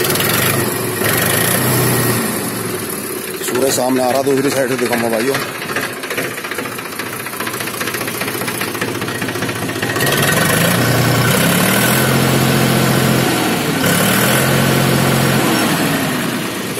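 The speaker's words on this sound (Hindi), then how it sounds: "पहले इंजन की आवाज देख लो भाइयों।" A 2005 Mahindra 265 tractor diesel engine idles with a steady low chugging rumble throughout, while someone talks over it.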